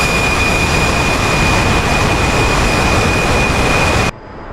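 An F-14B fighter's jet engines roar at full power during a takeoff roll in a flight simulator, a loud, steady broadband rush with a thin whine that cuts off abruptly near the end.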